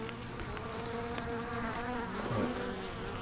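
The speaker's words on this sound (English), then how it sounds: "Comings and goings of bees." Honeybees buzzing at a hive entrance, a continuous droning hum of many insects with individual bees passing close by, faint and steady with no voices.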